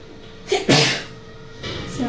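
A single sharp sneeze bursts out close and loud in a quiet indoor space during a shopping haul, preceded by a brief intake of breath, with soft rustling afterward.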